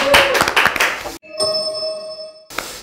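Brief, close applause from a small studio group welcoming a guest on an art talk show, a quick burst of clapping that cuts off and gives way to a bright sustained chime.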